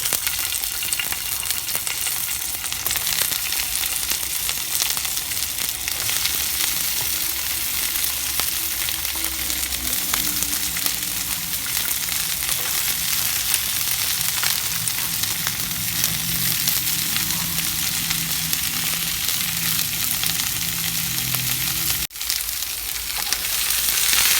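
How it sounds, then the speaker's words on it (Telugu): Capsicum frying in hot oil in a pan gives a loud, steady sizzle that runs unbroken throughout, with occasional stirring scrapes and a brief knock near the end, and no talk. "ఇప్పుడు ఆల్రెడీ ఆయిల్ ఉంది కదా ప్యాన్లో, ఇందులో క్యాప్సికమ్ వేసేసుకుంటాము"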